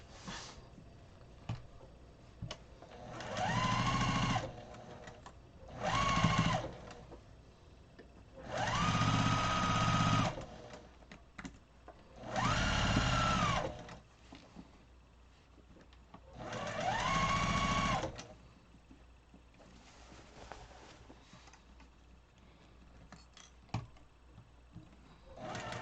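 A sewing machine stitches quilt block pieces in five separate runs of steady whirring, each a couple of seconds long with quiet gaps between, close and clear with no talking.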